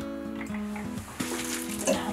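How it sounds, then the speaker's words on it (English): Water runs steadily from a tap during an evening horse-care routine at the stable, a soft continuous splashing flow heard up close. "So I usually turn the water on"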